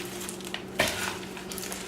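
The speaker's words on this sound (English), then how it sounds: "make sure you have it really stirred good, because you want the cornflakes to stay on there" Cornflakes stirred into a peanut butter mixture for Halloween treats: a soft, crunchy scraping rustle with one sharper crackle, steady and close, with a low background hum.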